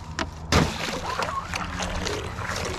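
An RC catamaran running 6S battery packs skims across open water, its motor whine mixing with splashing and sloshing spray, loud and steady after a sharp burst of water noise near the start.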